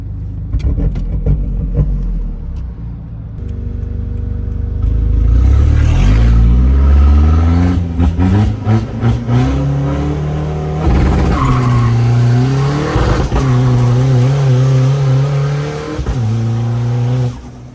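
A 1.9 turbo pickup engine revs hard, climbing through repeated rising and falling pitch sweeps, loud and close, with tyre squeal and skidding mixed in as it is driven aggressively.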